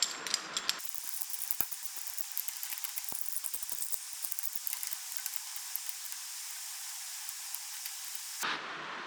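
A steel puller ratchets against a part on a Kubota V2003T engine taken from a flooded Toro Groundsmaster 4000D, a steady run of fine metallic clicks and hissing mechanical noise lasting several seconds, close and with no talking.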